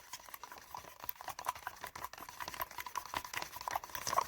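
Paint thinned with an equal measure of Floetrol is stirred with a stick, giving a soft, continuous wet patter and sloshing of thick liquid that stays steady and close, with no voices.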